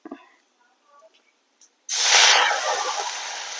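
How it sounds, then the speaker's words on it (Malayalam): After a few faint clinks, water is poured into a hot pan of roasted broad beans, bursting into a loud, sustained sizzling hiss that keeps going. "കുറച്ച് വെള്ളം ഒഴിക്കാം"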